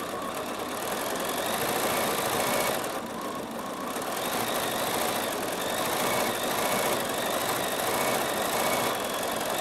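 A Bernina sewing machine with its stitch regulator runs steadily on its start-stop button, making a fast, even mechanical whir that holds level close by with no talk over it.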